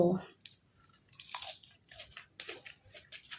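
Kale leaves and Isan sausage are chewed up close, with a series of crisp crunches and wet bites and some soft murmured voice sounds between them.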